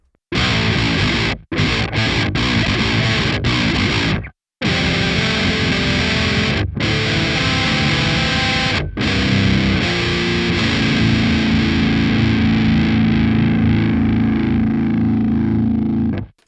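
A distorted electric guitar, pitch-shifted about seven semitones with the amp bypassed, plays phrases with brief gaps, ending on a long sustained chord, processed and slightly artificial in tone.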